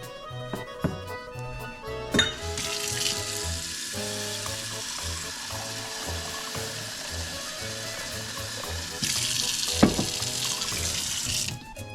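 Water running from a kitchen tap into a pan for macaroni and cheese, a steady hiss and splash that begins after a clank, continues for several seconds and grows louder near the end.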